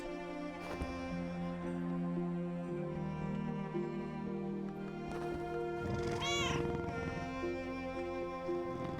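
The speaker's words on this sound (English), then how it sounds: "I also have a pet cat." A pet cat meowing over steady background music from a game, with one clear rising-and-falling meow standing out near the end and softer vocal sounds earlier, fairly close and moderately loud.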